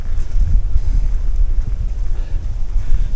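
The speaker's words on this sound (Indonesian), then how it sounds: "Wah sampai sini angin, terbuka." Wind gusting across an exposed, open stretch of trail while climbing Mount Agung in Bali, a steady low rumbling buffet against the microphone that holds throughout with no voices.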